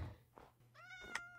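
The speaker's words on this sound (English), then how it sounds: "Oh, a kitty." A cat in a video game gives a short, clear meow with a rising, harmonic tone, heard alone over a low background hum.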